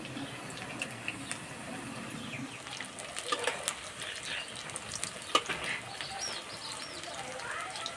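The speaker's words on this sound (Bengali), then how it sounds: "এই পকোড়াগুলো ভাজার সময় উনানে আঁচটা একটু মাঝারি আঁচে রাখবো।" Vegetable pakoras fry in oil over medium heat, giving a faint, steady sizzle. Occasional light clinks and rustles sound over a quiet background.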